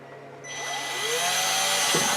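A power drill spins up and runs steadily while boring a pilot hole in wood for a conduit hole on an electrical junction box, its whine rising in pitch and staying loud and close until a brief knock near the end.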